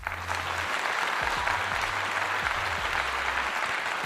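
Sustained applause for Deion Sanders and his coaching staff, a dense, steady wash of clapping from a large audience that holds at an even level for several seconds.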